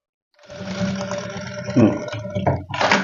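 A sewing machine runs steadily while stitching a hook-and-eye strip for a blouse, a continuous mechanical whir with slight surges, close by.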